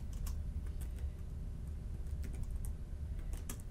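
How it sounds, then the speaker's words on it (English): Steady keystrokes on a computer keyboard while entering a property name, a continuous run of quick, close clicks with no talking. "For property name, we'll go ahead and type Marvin Robotics"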